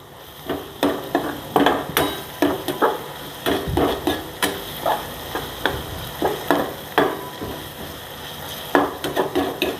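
Spice masala for a village-style sukat (dried fish) chutney frying in oil over medium heat, heard as repeated close stirring scrapes and clatters in an irregular rhythm over a soft background sizzle.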